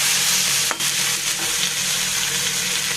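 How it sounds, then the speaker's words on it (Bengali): Chicken pieces lightly frying in a little oil in a pan, a steady close sizzle with stirring, for preparing Bangladeshi chicken bharta, with one brief scrape partway through. "চিকেনটাকে হালকা একটু ভেজে নেব।"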